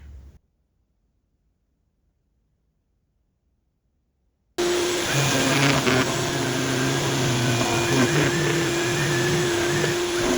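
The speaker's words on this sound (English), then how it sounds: "this stuff is the nastiest stuff to try to sand ever. It absolutely eats sanding discs" A sanding disc grinds steadily against a plastic guitar pickguard, a loud continuous whirring drone that starts abruptly after several seconds of silence and holds unbroken to the end.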